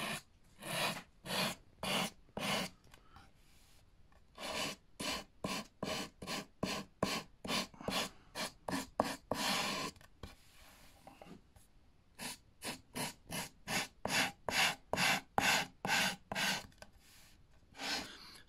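A hard sanding block with sandpaper strokes along the edge of a wooden keepsake box, trimming off tape in quick rhythmic rasping bursts, repeated in groups with short pauses, close and clear.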